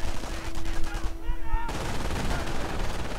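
In a strategy video game, bursts of machine gun fire and grenade blasts rattle and thump densely through a busy battlefield mix, loud and continuous, with a short gap in the middle before the fighting resumes.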